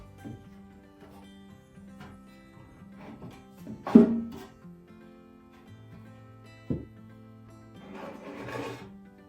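Firebricks are pulled from the back of a Parkray Aspect 5 ECO wood stove, making sparse gritty scrapes and rubs with one louder grinding knock midway and a low background hum.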